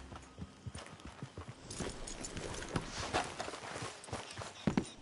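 Horse hooves in the video game Red Dead Redemption 2, a quiet rhythm of clip-clop steps on hard ground as horses walk, fairly close and uneven.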